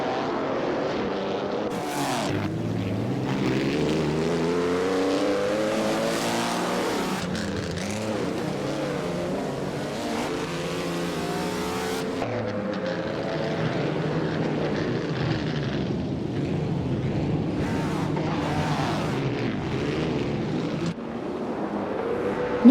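Race cars, including a 1938 Auto Union Type D, battle for first place in an AI-driven video game race, their engines roaring and whining through shifting pitches, loud and continuous with no talk.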